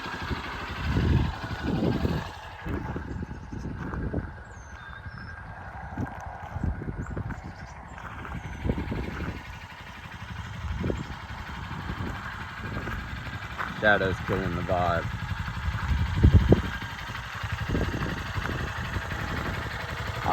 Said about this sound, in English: Idling nice and steady.